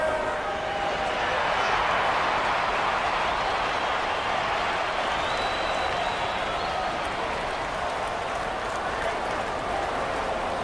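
A large arena crowd at an NBA preseason basketball game roars and cheers continuously during a t-shirt giveaway, a loud, sustained wash of voices and clapping with no break.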